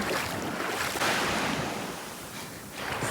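Surf from the Indian Ocean washes steadily onto the Mauritius shore, a dense, continuous roar of breaking waves with gusts of wind buffeting the microphone and no voices.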